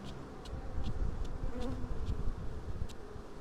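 Honey bees from a starving colony cut out of a chimney hum in a steady, close, low buzz, with a few individual bees zipping past.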